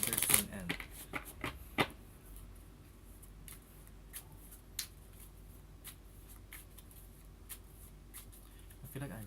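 Tarot cards are shuffled close up: a burst of riffling and flicking at the start, then sparse soft card taps and slides over a quiet background.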